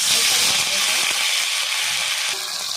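Mustard seeds and cumin hit hot oil in a pan for spinach sabji, a loud, steady hissing sizzle with a few sharp pops and crackles, easing slightly near the end.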